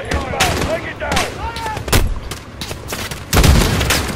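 Gunshots from the Call of Duty Modern Warfare campaign ring out as sharp, loud blasts in irregular bursts with short gaps between them. Voices are heard between the shots.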